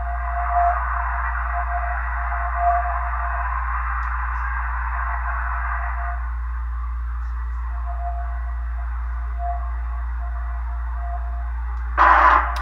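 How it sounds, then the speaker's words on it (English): A faint Morse code signal on shortwave radio channel 12 comes through as a thin, steady tone with short on-off pulses over low hiss, ending in a brief louder burst of noise. "So I'm hearing the Morse code. It's not very strong."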